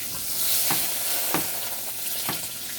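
Unsalted butter melts in a hot pan with a continuous bright sizzle, close and steady, broken by a few soft stirring scrapes.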